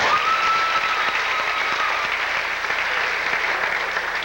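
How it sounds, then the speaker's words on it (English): A round of applause rings out at a 1992 West Essex football dinner, a steady, fairly close patter of many hands that slowly tapers off, with no speech over it. "I do believe she deserves a round of applause."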